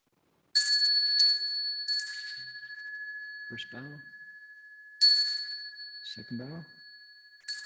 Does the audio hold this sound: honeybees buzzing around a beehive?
no